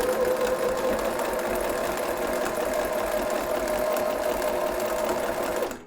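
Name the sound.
sewing machine top stitching a fabric gift bag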